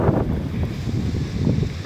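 Strong wind blows against a door, a steady close buffeting roar for under two seconds with no one talking.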